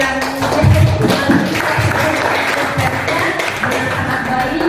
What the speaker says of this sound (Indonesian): Kita beri tepuk tangan untuk yang dengan